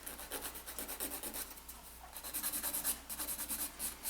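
An acrylic nail is filed with quick, rhythmic rasping strokes, faint and close, repeating steadily in short bursts with a brief pause partway through.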